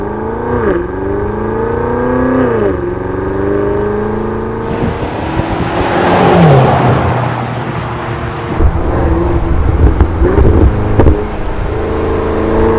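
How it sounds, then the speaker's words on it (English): Land Rover Defender Octa with a QuickSilver big-bore straight-pipe exhaust, valves open, roars loudly through revving gear changes, the engine note rising and dropping between shifts as it accelerates close by. "Big bore straight pipe all the way through with the valves open, so you'll really better hear it now when the valves open."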